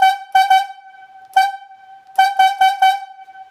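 Yarder whistle giving a slackline logging signal for four chokers back: one long blast followed by four short blasts, loud, harmonic and horn-like, alone with no talk.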